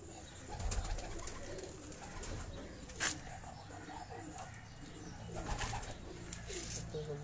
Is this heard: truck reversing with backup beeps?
no